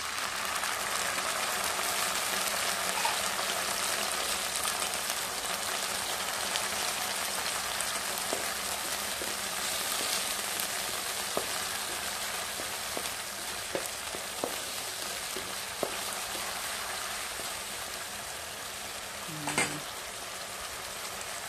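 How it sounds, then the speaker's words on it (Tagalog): Sardines sauté with browned garlic in a hot pan, a steady close sizzle with scattered light clinks of a utensil stirring, running for the whole stretch without talk. "Igisa muna natin yung ating sardines."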